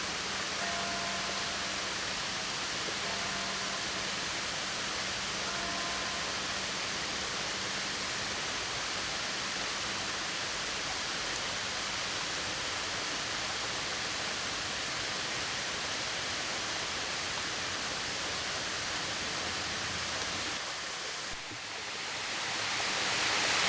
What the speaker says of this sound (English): Water's pouring off from the top.